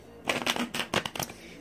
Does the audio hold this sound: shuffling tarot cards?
yes